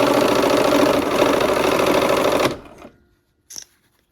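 A sewing machine stitches quilt block pieces in a steady, loud mechanical run that stops abruptly, followed by a brief quiet click.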